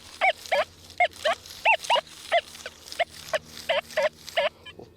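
XP Deus 2 metal detector on its Pitch program sounding off over an iron target: a fast run of short, bright warbling beeps in an uneven rhythm, close and fairly clear above a low hum.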